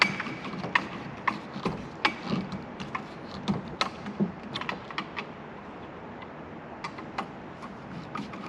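A Phillips screwdriver driving a screw with a washer into a bracket for beach bars on a 4-door Bronco: a run of close, crisp ratcheting clicks and ticks in an irregular rhythm, fairly quiet with no talk.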